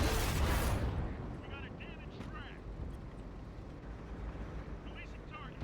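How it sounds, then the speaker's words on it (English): A loud explosion bursts at the start during a World of Tanks–style tank battle, then fades into a rumbling roar with some whistling, metallic effects over the remaining seconds. "An explosion."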